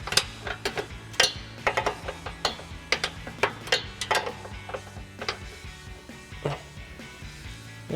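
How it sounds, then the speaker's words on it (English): A ratchet with a 14mm swivel socket tightens carriage bolts on a nerf bar bracket under a 2021-2023 Ford Bronco 4-door, giving a close series of quick, uneven clicking bursts with short pauses between them. "we're going to use our 14mm swivel socket on our ratchet to tighten down our carriage bolts"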